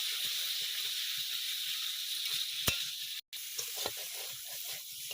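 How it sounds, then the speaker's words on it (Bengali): A ground ginger and green chilli paste with salt and turmeric fries in a pan, giving a steady close hiss and sizzle with a few faint clicks of stirring. "সেই বাটা মশলাটা দিয়ে দিচ্ছি। দিয়ে ভালো করে কষিয়ে নেব।"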